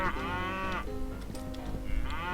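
In Point Blank, a cow-themed hammer weapon lets out a drawn-out moo that swells and fades, then a second moo begins near the end, both loud and close with no speech.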